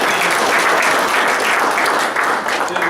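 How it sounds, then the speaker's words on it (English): Applause at a Rotary Club meeting, a steady wash of many hands clapping close and loud for three seconds, with no voices over it. "Let's give Natalie a round of applause"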